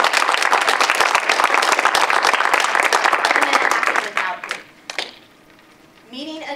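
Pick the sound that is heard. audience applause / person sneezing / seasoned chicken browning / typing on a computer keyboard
audience applause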